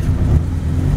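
A fast Honda car at a night drag race gives a loud, close, steady engine roar with a strong low drone, heard alone for about a second.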